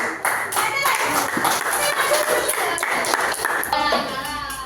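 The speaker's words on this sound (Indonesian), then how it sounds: "Kalian semua tepuk tangan dulu." Schoolchildren in an Indonesian elementary classroom clap together in a dense, steady burst that fills the room for several seconds, with a few young voices chattering and calling out over it.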